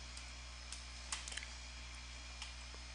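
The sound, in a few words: typing on a computer keyboard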